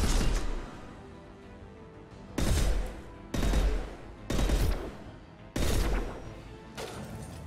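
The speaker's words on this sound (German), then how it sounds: "Guter Schuss! Ich liebe dieses Gewehr." Five bursts of rapid rifle fire in the video game Mass Effect Legendary Edition, each lasting about a second, separated by quieter pauses.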